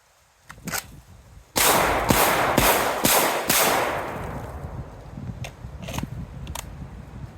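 Handgun shots fired in quick succession during a move-and-shoot practice drill at a range, loud sharp cracks roughly every half second with ringing echo, followed by a few more spaced shots as the sound fades.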